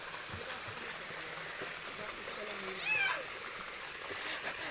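People bathe and splash in a stream at Balite, Silang, Cavite: a steady wash of moving water with a louder splash near the third second, and faint voices mixed in.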